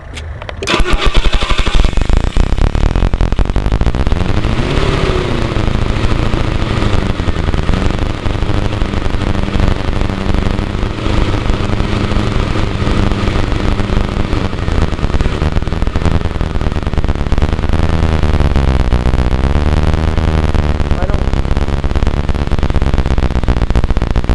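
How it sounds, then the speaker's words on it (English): A Rolls-Royce car that stalls once hot, its engine cranking and catching, then running loud and close with throttle revs swelling and falling throughout. "Let's start up and let's give it gas now so you can hear it like that."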